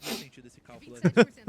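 Two sharp, loud sneezes in quick succession from a commentator during a League of Legends esports broadcast, following softer chatter and breathy sounds close to the microphone.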